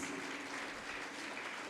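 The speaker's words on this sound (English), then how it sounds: "Give them a huge round of applause." Audience applause at a school graduation ceremony, a steady wash of clapping from a crowd held at an even level throughout the short stretch.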